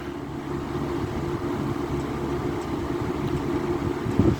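A 1987 Kmart K-223 electric fan with a Samsung motor running on high, a steady low hum and airy whir, continuous and fairly quiet, with a small knock near the end.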